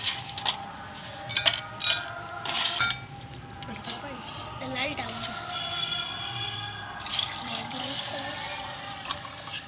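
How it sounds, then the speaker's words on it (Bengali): Several sharp clinks of ice cubes dropped into a glass in a couple of quick bursts, followed by softer liquid sloshing and faint chiming, with talking over part of it. "এবারে গ্লাসে বরফের টুকরো দিয়ে দেব"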